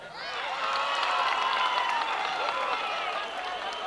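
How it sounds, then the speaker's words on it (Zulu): Applause and cheering from an audience welcoming a maskandi musician, a continuous crowd clapping with excited voices and whistling-like calls rising over it. "ngicela kushala abaholi ihlombe ukuniqasha nje"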